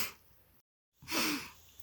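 A single sharp sneeze bursts out after a short breathy intake and a moment of silence, close and fairly quiet.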